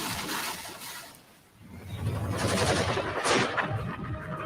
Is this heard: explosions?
yes